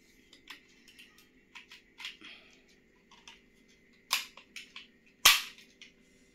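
A soft-material toy gun is fired several times, giving sharp clicks and snaps scattered irregularly with two louder cracks near the end, close by in a quiet room.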